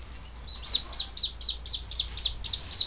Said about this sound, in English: I hear a duckling in here.